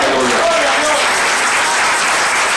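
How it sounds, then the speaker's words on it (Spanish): Loud, dense applause fills a church as the congregation claps continuously, with a voice briefly audible early on beneath the clapping. "Denle un aplauso a Dios."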